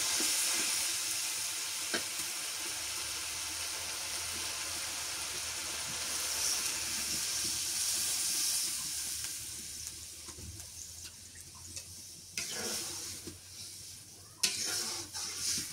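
Banana kandail curry sizzling loudly in a pan after water is added, a steady bright hiss that gradually fades and settles, with a few scrapes and clinks of stirring near the end.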